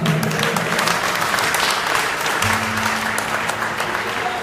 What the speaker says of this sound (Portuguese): Aplaudam ele, por favor